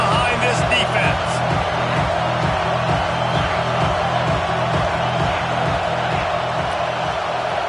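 A college football stadium crowd at Auburn vs. Texas roars steadily for the defense on a big third down, a loud, continuous wash of cheering with a commentator talking over it.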